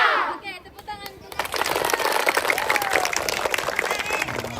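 At a scout camp, a crowd of children and adults breaks into lively clapping after a chanted call, the applause rising abruptly and continuing steadily, mixed with scattered voices and some cheering.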